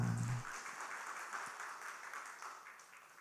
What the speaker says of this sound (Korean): 하나님께 영광의 박수를 드립시다.